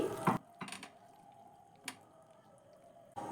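Food is poured from a pan onto a plate in a home kitchen, heard as a few short bursts of metallic scraping and clatter separated by quiet pauses.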